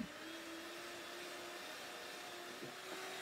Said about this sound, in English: So we're going to get a mixer to stiffen it up.